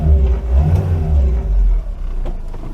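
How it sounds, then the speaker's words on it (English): A Renault 4 with a conventional four-cylinder water-cooled engine fires up and revs close by, a loud low rumble that settles into a steadier running note. "start the engine. And a very different soundtrack because it's a conventional 4-cylinder water-cooled engine"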